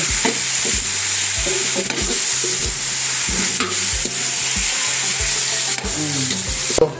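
Anchovies simmer in coconut milk in a pot with a steady bubbling sizzle throughout. A repeated low rhythmic pulsing runs underneath, and a sharp clatter comes near the end.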